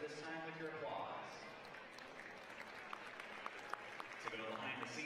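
An audience at a 2019 high school boys baseball Class 1A state championship game applauds, a steady wash of clapping from a crowd spread across the stands, moderately distant and sustained throughout.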